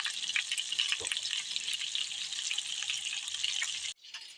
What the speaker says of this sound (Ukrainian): Поки котлетки жаряться